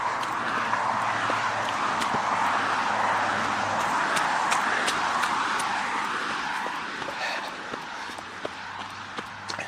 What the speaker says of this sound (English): We've had more car noise than anything else so far.